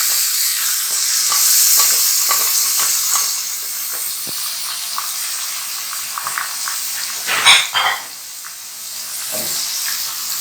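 Minced meat (keema) sizzles and is stirred with onions in a pan for smoky tikka keema. Steady frying hiss comes with scraping stirs and a louder burst of sizzle near the end, and no one speaks.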